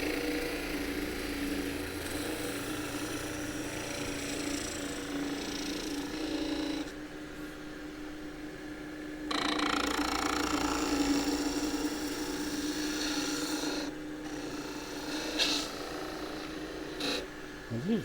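Skew chisel cutting hard, dry timber on a wood lathe, a sustained scraping hiss over the motor's hum with abrupt changes in tone as the cut starts and stops, occasional light taps near the end.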